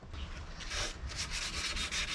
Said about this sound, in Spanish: tendría que hacer el lijado en el mismo sentido todo el tiempo